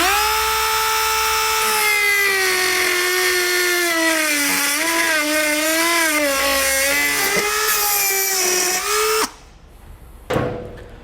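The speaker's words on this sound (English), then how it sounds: "then we'll take a Dremel tool and remove it" A Dremel rotary tool cuts away plastic bumper material while fitting a Curt trailer hitch receiver to a 2022 vehicle. The high, loud whine runs steadily for about nine seconds with its pitch wavering under load, then stops abruptly, leaving a short quiet tail and one brief burst.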